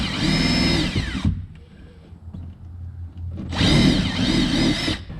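A power drill whines loudly through the floor carpet of a Jeep Wrangler during an Armorlite flooring install, two sustained bursts of drilling separated by a quieter pause, close and alone.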